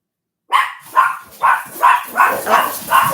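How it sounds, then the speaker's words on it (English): Dogs indoors bark at something outside a window, seven loud sharp barks in a regular rhythm, one roughly every half second, after a brief silence. "the dogs are going crazy."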